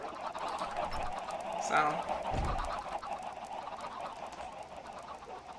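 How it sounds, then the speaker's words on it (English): Chickens on an automatic chicken farm in a video game cluck and squawk at moderate distance, with one louder burst in the middle over steady background noise, while a person speaks briefly. "Pardon all the noise, but this is an automatic little chicken farm over here."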